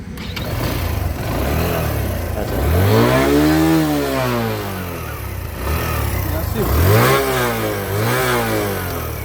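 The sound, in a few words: Suzuki GSX 125 motorcycle engine running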